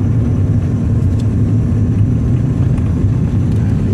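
Car with an ATM automatic transmission in second gear on a test drive, worn transmission; steady loud low engine and road drone runs throughout with no speech.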